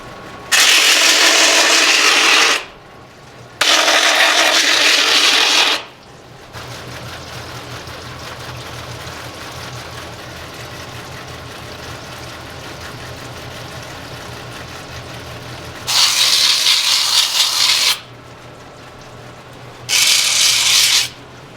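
Hand-forged Damascus steel kitchen knife being polished on a powered machine, loud harsh grinding bursts of a few seconds each, four passes separated by a quieter steady motor hum in the middle.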